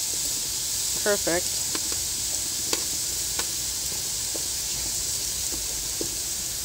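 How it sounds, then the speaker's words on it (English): Shrimp sizzle steadily on a grill as a constant broadband hiss, with a brief voice and a few light clicks over the top. "That's what you want to hear. Nice sizzle."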